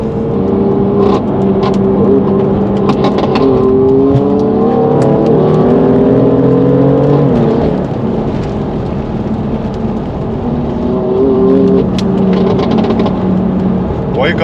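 BMW M4 and M3 performance cars drive and rev, their engines droning loudly and continuously with rising and falling pitch sweeps as they accelerate, a steady close mechanical roar throughout.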